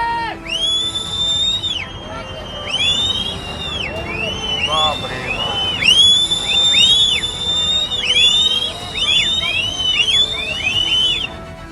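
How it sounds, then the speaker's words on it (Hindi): Repeated shrill whistles blown in bursts during the Kheer Ganga flash flood in Dharali, Uttarkashi, Uttarakhand, sounding as rising and falling rhythmic calls over a rushing roar and distant crowd noise. "कहीं दूर से बजती सीटी।"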